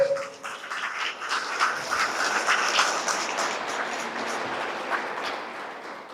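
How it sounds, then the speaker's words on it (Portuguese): A church congregation applauds loudly and steadily, a dense wash of many hands clapping together that holds without a break from start to finish. "Aplauda o Senhor bem forte."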